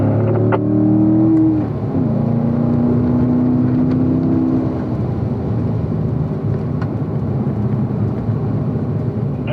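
A Chevrolet Corvette at a racing school on the Spring Mountain track drones loudly and close in fourth gear, its engine note climbing briefly at the start and then holding a steady, strained roar, with no voices.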